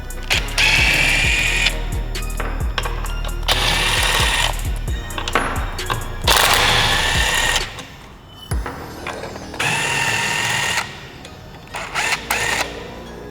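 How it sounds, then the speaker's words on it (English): A ratchet removes four 12mm bolts holding a factory car shifter, giving bursts of rapid mechanical clicking separated by short pauses, close and loud, with metallic clinks between. "now we're gonna remove these 4 12mm bolts that are holding this factory shifter on"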